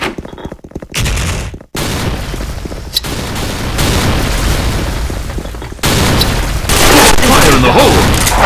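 Grenade explosions and gunfire in the shooter game Bull SF team mode, loud heavy booms and dense rattling bursts filling the whole stretch, with voices calling out over the din.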